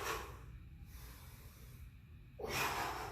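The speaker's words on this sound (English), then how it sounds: "Inhale, exhale, inhale," Heavy breathing during a single kettlebell bodyweight workout: a few close, audible breaths with a sharp exhale-like burst near the end, no voice over it.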